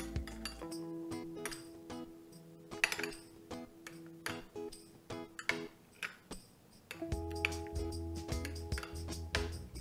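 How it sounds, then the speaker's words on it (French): A spoon clinks repeatedly against a bowl while thick cream is gently mixed with lemon juice, in irregular bursts of light chinks over steady background music. "On va le mélanger gentiment."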